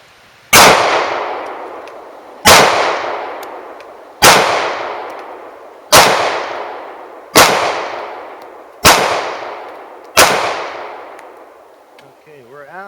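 Seven evenly spaced shots from a Kahr CW9 9mm pistol, each a loud, sharp crack about a second and a half apart with a ringing decay, ending in a faint trailing noise.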